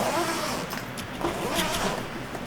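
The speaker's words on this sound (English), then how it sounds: "And just double zippers here." Double zipper on the fabric cover of a smoke-tinted SCULPFUN laser engraver enclosure being drawn open: a continuous close, raspy zipping scrape lasting a couple of seconds with no pauses.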